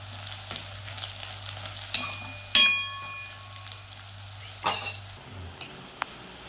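Dried red chillies sautéing in a pan for chicken, a low sizzle punctuated by several metallic clinks and scrapes of a spoon against the pan.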